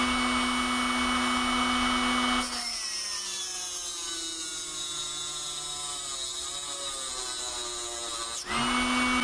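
Electric drill motor on a test bench, loaded down near torque stall and drawing about 250 watts, giving a loud, continuous whine that drops in pitch under load and then recovers at the end.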